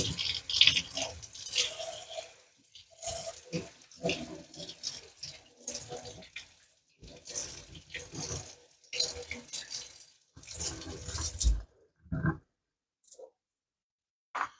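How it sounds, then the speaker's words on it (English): A 1971 Case Barlow pocket knife, fresh from a soak in dish soap, is rinsed under a running tap in bursts of splashing water with brief pauses and a few clicks, close and fairly quiet. "Take it out and give it a rinse."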